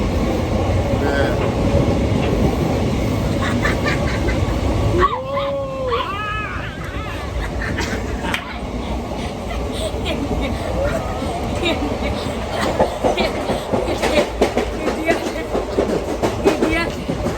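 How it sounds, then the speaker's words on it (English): Loud, constant rumbling and rattling from inside a moving train, with voices and brief howling or barking sounds over the roar. "Here we are on the train."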